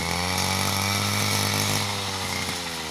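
A motorized grass cutter runs continuously at full throttle while cutting grass for elephants under hot sun, a loud, close, steady buzzing whine lasting a few seconds with no talk.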